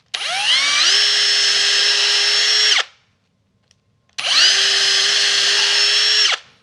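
A power driver fitted with a hex head bit tightens hex screws in two long, steady whirring runs, each close and loud, separated by a short quiet pause.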